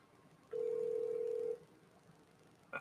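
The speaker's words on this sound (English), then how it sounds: "Oh, it's ringing." A steady electronic ring tone sounds once for about a second, then quiet line hiss follows with a faint click near the end.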